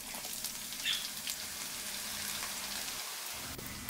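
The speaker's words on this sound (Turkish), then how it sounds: "geri kalan patlıcanları da ekleyip kızartmaya devam ediyorum" Steady crackling sizzle of eggplant frying in hot oil, an even rain-like hiss up close that keeps going without pause.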